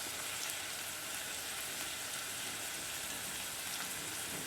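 Diced carrot and dried chillies sizzling in a pan for upma, a steady, fairly soft hiss of frying oil throughout with no talking.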